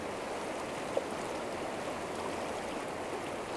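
A river flows in a steady, even rush of moving water. The sound stays constant throughout, with no voices.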